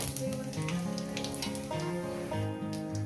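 Cumin seeds and a dried red chilli sizzle as a tempering in hot oil, a crackling fry heard under prominent background music.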